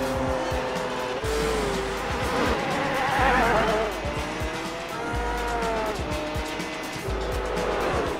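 A Sauber Mercedes race car in Gran Turismo 4 races on a speedway, its engine whining loud and continuous, rising and falling through repeated gear shifts, with tires squealing.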